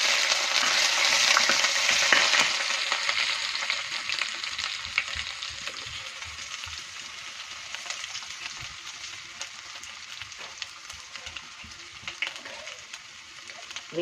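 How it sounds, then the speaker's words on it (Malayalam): Garlic cloves and crushed ginger frying in oil in a pan for a Kerala fish curry, a steady close sizzle that starts loud and eases slightly, with occasional stirring clinks. "എല്ലാം 5 അല്ലി വെളുത്തുള്ളി എടുത്തിട്ടുണ്ട്. അതിനകത്തേക്കിട്ട് അതൊന്ന് മൂക്കട്ടെ."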